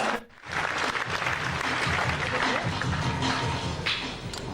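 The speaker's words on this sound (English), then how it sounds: "Let's have a big round of applause." A big round of applause from a crowd, dense clapping rising quickly after a brief dip and holding steady and loud for several seconds.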